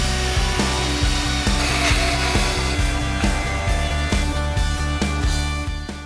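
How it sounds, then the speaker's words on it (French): A 12-volt handheld circular saw cuts through a wooden tabletop, whining steadily for several seconds, with a repeated rhythmic ticking pulse running beneath the continuous buzz. "C'est là que revient la scie circulaire à main de 12 volts."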